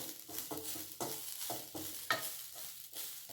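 Grated coconut roasting over a low flame in a pan, stirred nonstop with soft scraping sweeps and a faint sizzle; the strokes recur in a steady rhythm, close and fairly quiet, with no voices.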